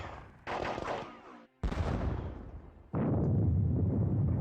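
Artillery fires point blank in a Gettysburg campaign video game at Little Round Top: three heavy cannon blasts in a row, separated by brief pauses, each loud and rumbling.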